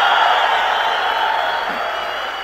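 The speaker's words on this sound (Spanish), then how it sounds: "Una ovación a los nuevos." A convention crowd in Bogotá roars with a continuous wash of cheering and clapping, loud and sustained throughout with no break.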